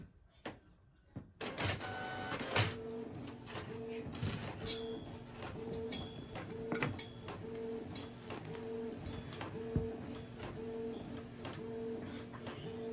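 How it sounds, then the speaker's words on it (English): A home printer running a print job starts after a short silence, then whirs and clicks steadily with a repeating mechanical rhythm, close and moderately loud, with faint bird calls in the background. "that time printer is gonna print"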